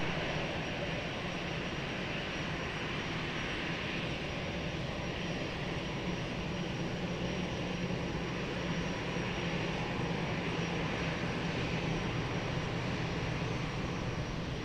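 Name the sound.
airplane taking off from runway 20 at Lisbon Airport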